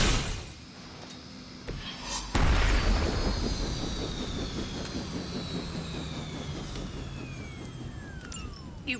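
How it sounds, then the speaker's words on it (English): A helicopter in the video game Marvel's Midnight Suns gives a continuous loud engine and rotor roar with a heavy low rumble and a descending whine, running steadily from start to finish. "You've grounded the helicopter."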